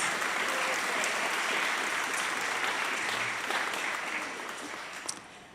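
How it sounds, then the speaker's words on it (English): An audience at a board of education meeting applauds loudly and continuously, the clapping thinning and fading toward the end. "That is worthy of another round of applause."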